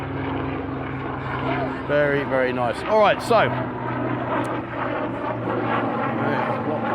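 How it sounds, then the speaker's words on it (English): A steady aircraft engine drone hums in the background while people talk nearby near Pattaya, Thailand, with a passing helicopter's throbbing rotor noise present throughout. "what helicopter is that? I ain't got a clue. Noisy though."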